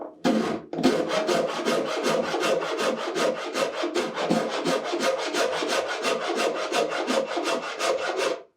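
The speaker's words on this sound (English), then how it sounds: "So I'm using this rasp, and it's takes a lot of material, but it's very fine and makes a good surface." Steady rasp strokes shaping the wooden frame of a handmade guitar after the top has been glued on, a continuous fast rhythm of coarse rubbing scrapes, close and loud with no talk.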